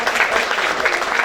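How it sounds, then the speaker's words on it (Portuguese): Audience clapping during a storytelling workshop, a short steady patter of many hands at moderate loudness with no voices over it. "Aplaude"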